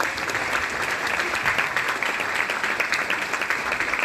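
An audience at a chiefdoms parade event in Cameroon applauds to welcome a queen onto the stage, steady dense clapping throughout at moderate level, with no talk over it.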